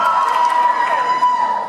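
A large convention-panel crowd cheers for McLean, a loud, sustained roar of voices and shouts that holds steady throughout with a slight swell near the end.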